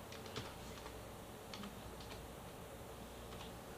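A computer keyboard is typed on in faint, scattered clicks for a few seconds over steady background hiss, with no talk.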